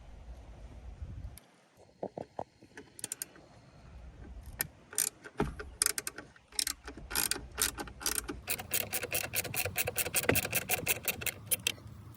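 Torx screws being backed out of a broken sunroof on a Toyota RAV4 with a ratcheting driver: close, repeated ratchet clicks and metallic rattling in quick bursts, with no one talking.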